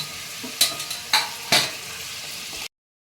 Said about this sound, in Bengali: কচুগুলো দিয়ে আমি বেশ ভালো করে একটু কষিয়ে নেব